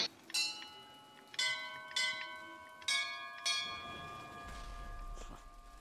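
Church bells from the video game BioShock Infinite ring out in several bright, sustained strikes with long overlapping tones, growing busier toward the end as a low rumble rises beneath them.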